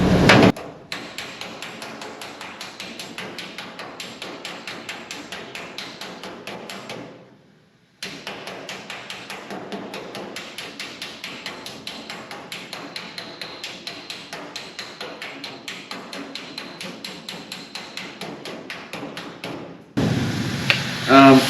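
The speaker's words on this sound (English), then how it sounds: "This needs a lot of hammering." A body hammer beats a steel car quarter panel against a low-crown dolly in a shop. Steady, rapid metallic blows run for most of the stretch, stop briefly, then resume, with a louder burst at the end.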